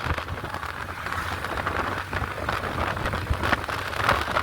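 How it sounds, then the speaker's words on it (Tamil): Light rain drizzling outdoors in Jaffna, a steady soft patter of drops with faint scattered ticks, continuous and even, with no voices. "மழை தூருது"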